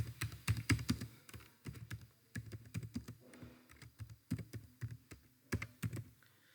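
Someone types on a computer keyboard in quick, uneven bursts of close clicking and clacking, with short pauses between runs of keystrokes and no voice over it.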